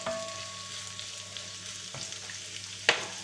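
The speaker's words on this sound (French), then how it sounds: "je vais mettre ma viande avec mon oignon. Et je mets ma viande côté peau." Meat laid skin-side down with onion for paella sizzles and fries steadily in a pan, a continuous close crackle with a few small clicks and a brief clatter near the end.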